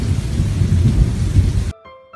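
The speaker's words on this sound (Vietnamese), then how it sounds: "Mùa hè, ngoài thời tiết nóng oi bức ra, đôi khi còn xuất hiện những cơn mưa rào và kèm theo sấm chớp với các con ạ." A summer thunderstorm with a heavy rain shower, loud dense downpour and rumbling thunder filling the scene, then cutting off abruptly near the end.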